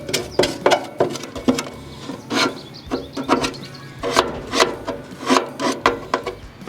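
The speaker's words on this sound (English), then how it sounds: "it makes no sense not to scrape off these flavorizer bars" A scraper works grease buildup off the flavorizer bars and cooker parts of a Weber Genesis gas grill in repeated rough, rasping strokes, close and irregular, with no talk.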